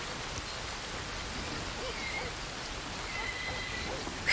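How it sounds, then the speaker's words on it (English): Steady rain falls continuously in Red Dead Redemption 2, a dense even hiss of drops with no talking. "It's raining right now."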